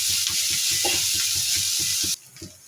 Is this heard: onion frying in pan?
yes